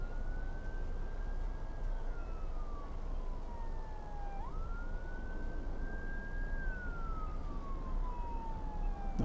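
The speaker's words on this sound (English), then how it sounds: "Hearing fire trucks or police cars or something." Emergency sirens from fire trucks or police cars near DFW Airport, a steady wailing tone sweeping slowly up and down, heard at a distance over constant outdoor background noise.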